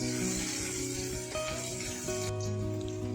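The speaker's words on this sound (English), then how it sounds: "Stir it well." Ginger garlic paste frying in a pan with cumin and mustard seeds, stirred through a steady close sizzle with faint scraping, no talking.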